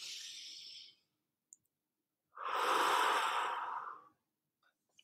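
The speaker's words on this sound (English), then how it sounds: "Take a deep breath." Two slow, breathy exhales sound up close, the first one short and the second one long and deep, with a brief pause between them and near silence around them. No one speaks.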